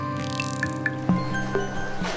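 A cartoon character wades across a river, with soft scattered drips and squishy splashes heard faintly under a sustained musical drone, several light watery plops spread across the short stretch.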